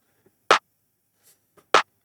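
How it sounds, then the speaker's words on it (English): Two sharp, punchy clap samples from a music production drum layer, about a second and a quarter apart, each bright and snappy, with near silence between them. "And the clap sound we've got here sounds like this."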